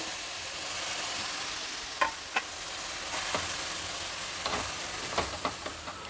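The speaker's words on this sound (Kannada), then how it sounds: "ಎಣ್ಣೆ ಬಿಸಿಯಾಗಿದೆ ಹಚ್ಚಿಟ್ಕೊಂಡಿರೋ ಮೆಂತ್ಯ ಸೊಪ್ಪನ್ನ ಇದರಲ್ಲಿ ಸೇರಿಸ್ತಾ ಇದ್ದೀನಿ ಸ್ವಲ್ಪ ಎಣ್ಣೆಯಲ್ಲಿ ಮೆಂತ್ಯ ಸೊಪ್ಪನ್ನು ಬಾಡಿಸ್ಬೇಕು" Chopped fenugreek leaves sauté in hot oil over a high flame, a steady close sizzle broken by a few sharp stirring clicks and scrapes.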